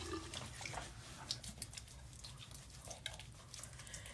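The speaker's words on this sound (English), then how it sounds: "So just splash a little bit of water on my face" Water splashed by hand onto a face during makeup removal at a sink, a few soft close splashes and drips over a steady running-tap wash.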